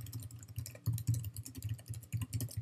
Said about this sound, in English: and type in that subdomain that we just created